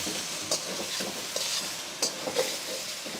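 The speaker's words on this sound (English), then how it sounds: "Fold the food over and then scrape down any bits that are sticking." Strips of beef stir-fry in a hot wok, a soft steady sizzle broken by several quick scraping and stirring clinks of a utensil against the pan, close and moderately quiet.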